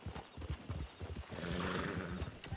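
Horses in the video game Red Dead Redemption II, a quick run of clip-clop hoofbeats followed by a clear neigh, moderately close, with no talking over it.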